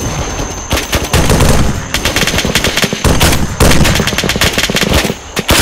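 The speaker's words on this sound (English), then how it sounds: "you're shooting at friendlies down there" Bursts of rapid automatic gunfire from a friendly squad in a Vietnam-era Viet Cong game operation, loud and close, coming in repeated volleys with brief gaps.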